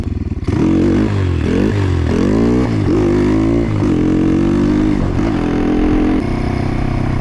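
A motorcycle's engine revs loudly and continuously as the rider lifts the front wheel in a wheelie, the pitch climbing and dropping in repeated surges over a clattering, rumbling idle, close up with no talking.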